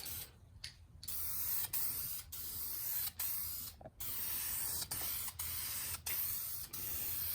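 Spray can laying primer onto used side skirts for a 1990 Mustang GT, heard as a long steady close hiss broken by several brief pauses between passes.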